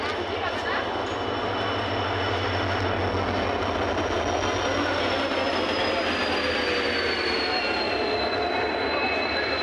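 A train passes through a railway station with a loud, steady rumble of wheels and carriages and a high squeal of wheels running over the top. The sound stays close and constant for the whole stretch.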